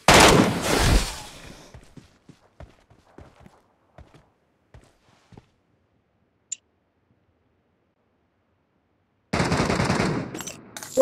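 Machine-gun fire in the PUBG Metro Royale game: a loud, dense burst of automatic shots opens the clip, scattered faint clicks and taps follow, and a second loud sustained burst closes it.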